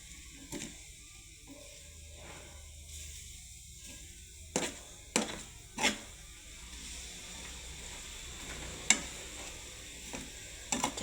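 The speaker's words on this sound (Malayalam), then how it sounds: "എന്നിട്ട് നമുക്കതെല്ലാം കൂടെ ഒന്ന് യോജിപ്പിക്കാം." Grated coconut is stirred into a frying jackfruit seed dish in a pan. Faint scraping and soft sizzling run underneath, broken by a handful of sharp utensil clinks against the pan.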